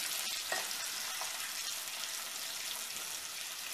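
Garlic cloves and fresh ginger fry in a pan with a steady, close sizzle and soft crackle that runs alone throughout, with a faint stir or clink near the start.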